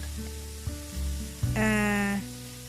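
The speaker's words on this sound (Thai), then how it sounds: "ตอนนี้ยังไม่ต้องผัดให้หมูสุกมากค่ะ" Pork stir-fries in a pan with a soft sizzle beneath clear tonal sounds that rise and fall, making the frying noise moderately quiet and brief.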